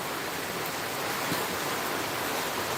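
Heavy rain pours down in a steady, dense hiss that stays loud and even throughout, with no voices over it.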